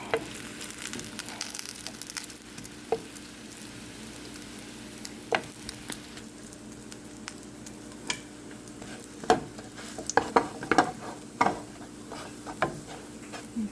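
Pieces of bread frying in hot oil for a Mexican mole, giving a steady close sizzle with scattered pops and the occasional stir or clink of a utensil against the pan.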